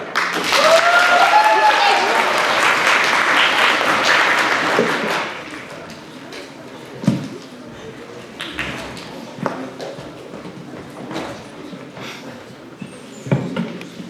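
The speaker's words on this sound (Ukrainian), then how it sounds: "Підтримуємо оплесками." A crowd claps warmly for about five seconds at a student physics day stage event, then the applause stops, leaving scattered taps and faint room sounds.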